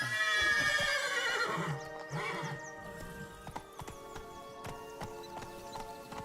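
Roach the horse in The Witcher 3, a neigh at the start followed by steady clip-clop hoofbeats moving at a gallop and then easing, with faint game music underneath.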